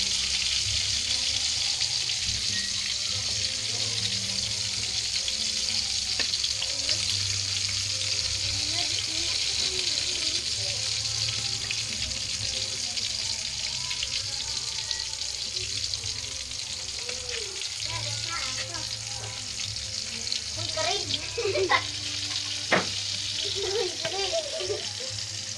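Dried fish (tuyo) fries in a pan with a steady, close hiss and sizzle, broken by occasional crackles and pops, while a voice talks quietly in the background.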